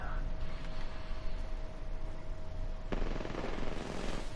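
Rapid video game gunfire on a PS4 shooter, bursts of shots aimed at the player's character, a steady loud crackle that runs throughout with a sharp crack near the end and no talking.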